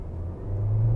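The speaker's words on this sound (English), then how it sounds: "we'll do a quick acceleration test" A 2021 Nissan Versa SR with a 1.6-litre engine and Xtronic transmission accelerates hard from a stop, its steady engine drone rising smoothly in pitch as it pulls away.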